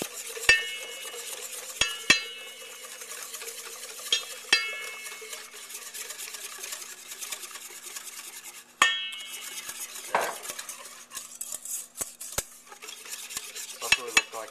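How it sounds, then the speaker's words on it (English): A whisk beats heavy cream into a zabaglione mixture, scraping and clinking against the bowl in quick, irregular strokes with sharp metallic taps and short pauses, close and clear, without speech. "I'm going to go ahead and whisk in my 3/4 of a cup of heavy cream. Just going to slowly whisk that in to incorporate"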